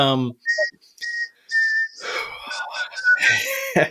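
Someone whistles a short melody in bright, separate notes, followed by a burst of breathy, mixed vocal sounds near the end.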